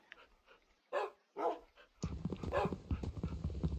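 Minecraft dogs barking in the game, with a couple of short, separate barks followed by a denser, continuous run of barking and game sounds, close and clear.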